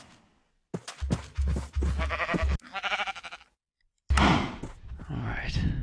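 Sheep bleat in the farm video game Quest for Cows 2: several distinct wavering bleats in bursts, close and fairly loud, with short silent gaps between them.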